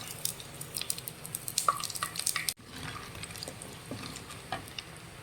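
Tempering spices are dropped into hot ghee in a clay pot for mutton sukka, crackling and spluttering in quick bursts that settle after a moment into a softer, steady sizzle.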